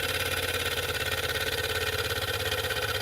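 A small Chinese solar-powered engine with a plastic cylinder and burner runs at a steady, fast, even chugging rhythm, close and continuous, with no voices.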